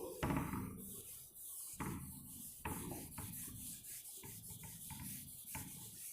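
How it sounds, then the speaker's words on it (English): Chalk is rubbed off a classroom blackboard in repeated brushing strokes, each a rough swish with a soft knock at its start, close and moderate in level, with no talking. "I'm going to rub this out for you, okay?"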